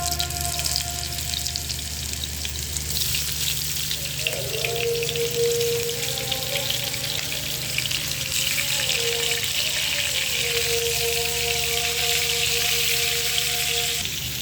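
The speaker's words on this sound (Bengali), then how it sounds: "এখন আমরা মাছগুলোকে এখানে একটা একটা করে দিয়ে ভেজে নেব।" Catla fish pieces frying in hot oil, a continuous close crackling sizzle with occasional spits and pops, steady in loudness over a faint musical background, with no voices.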